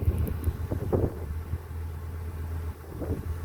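A truck idles at a mountain campground, a low steady engine hum with a constant rumbling drone close by, overlaid with light wind buffeting and a few brief knocks and rustles.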